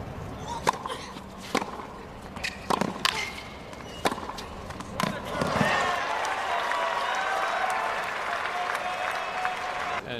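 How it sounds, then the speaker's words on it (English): A tennis match between Kim Clijsters and Laura Robson at the 2012 US Open: sharp racket strikes and ball bounces ring out in a rally, then a broad wash of crowd applause swells up and carries on steadily. "you'd hear Kim garnering a lot of crowd support."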